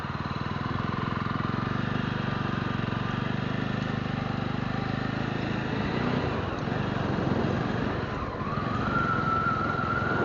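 Motorcycle engine running steadily close by as the rider swings through a U-turn, a continuous loud drone with a slight shift in pitch toward the end and wind noise throughout.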